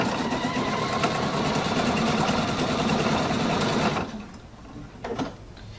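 A Pfaff Quilt Expression 720 sewing machine stitches steadily with a rapid mechanical whir for about four seconds, then stops abruptly, leaving a few faint clicks and a brief rustle.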